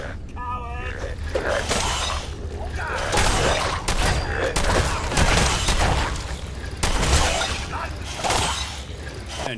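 Repeated gunshots in Fallout 4 combat, a run of sharp loud cracks and bursts with metallic clatter and mechanical clicks between them, close and intense across the whole stretch.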